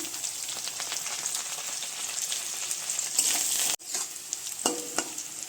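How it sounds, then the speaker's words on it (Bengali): Onion frying in hot oil with panch phoron and crushed garlic, a steady close sizzle with stirring scrapes, a brief dropout near the middle, then a few louder spatters. "রসুনটা একটু ভাজা ভাজা হলে একটু পেঁয়াজ দিয়ে দিলাম"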